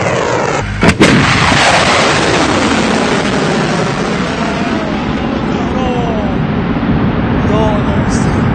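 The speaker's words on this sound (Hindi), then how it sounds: "IRGC ने फुटेज रिलीज की है जिसमें बैलिस्टिक मिसाइल लॉन्च की जा रही है" An IRGC ballistic missile launch opens with a sharp blast, then a loud, sustained roaring rush of rocket exhaust that continues for several seconds, with no talk over it.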